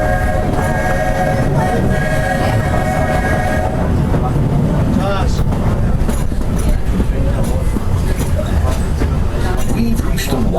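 The Walt Disney World Railroad train rolls steadily along with a rumbling, clattering ride and a sustained whistle blast at the start, loud and continuous throughout.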